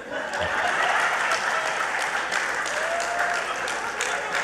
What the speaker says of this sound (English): That's when you usually give a round of applause.